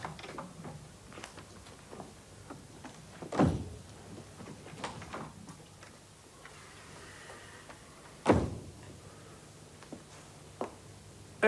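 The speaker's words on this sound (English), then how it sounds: "Try the door." Door in a stage play being tried and opened: scattered clicks and rattles of a handle, two heavy thuds of the door several seconds apart, faint in a quiet room with no speech.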